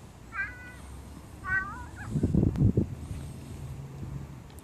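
Cat meowing indoors: two short, close meows in quick succession, followed by a low rumbly vocal sound, with no talk.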